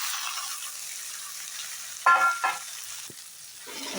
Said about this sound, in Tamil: வெங்காயம் வதங்கிச்சிங்க இப்போ தக்காளி சேர்த்துக்கலாங்க